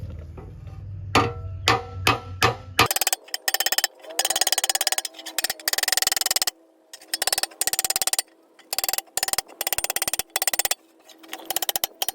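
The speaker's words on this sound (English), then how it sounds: "For those dimples there, I like to use the ball end of my hammer." Ball end of a hammer tapping dimples into metal while repairing a Corvair, sharp ringing taps in quick irregular bursts with brief pauses, close and loud, a few slower hits at first before rapid tapping.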